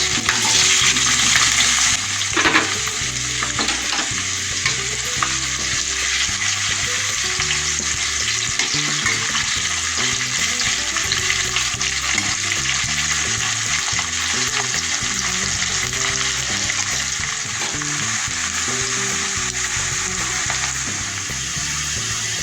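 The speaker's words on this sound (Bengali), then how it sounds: "পেঁয়াজটা হালকা ভাজা হয়ে গেছে" Chopped onion sizzles steadily in oil in a wok, a dense continuous frying hiss close by with occasional stirring scrapes and a short burst near the start.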